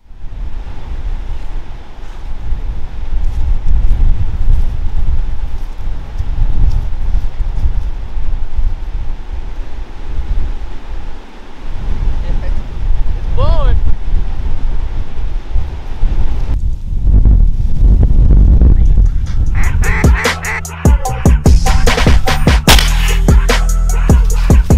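Strong wind gusting over 40 mph batters the microphone at a layout hide during a mallard duck hunt, a loud, continuous roar that surges and buffets for the whole stretch and turns harsher and choppier near the end.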